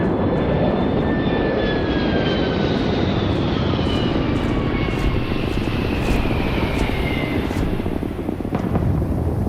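A spaceship in Starfield comes in to land with a steady, loud engine roar and whine that holds without a break, a few thin high tones sliding across the top and no voices.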